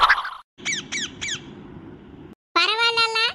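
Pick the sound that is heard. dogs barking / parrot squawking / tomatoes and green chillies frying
parrot squawking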